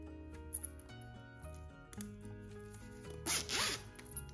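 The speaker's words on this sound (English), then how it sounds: "I always recommend to test your zipper before you attach it if you're using a zipper tape" A zipper tape is zipped for a test, its slider clicking and ticking along the teeth in short bursts, followed by a brighter, louder zip near the end, close up in a quiet room.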